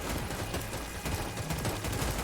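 A minigun in an online wave-based video game fires in a continuous rapid rattle, dense and unbroken throughout, heard at a moderate level.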